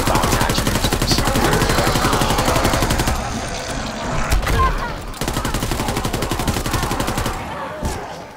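A GDB 79 assault rifle fires in a WWII shooter game: two long, rapid, evenly spaced full-auto bursts, loud and close, separated by a short pause with a few scattered shots.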